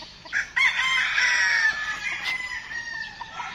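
A Butcher bloodline gamefowl rooster crows one long, loud call nearby, with a few softer clucks and bird sounds around it.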